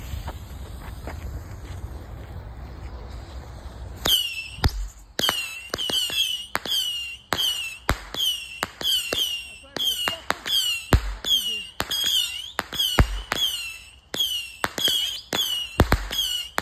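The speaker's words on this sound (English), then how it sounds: "alien 25 shot Saturn missile." Rapid volley of a 25-shot Saturn missile firework launching, dozens of sharp whistling shots fired in quick bursts one after another, loud and close, with a low rumble of voices before the firing starts.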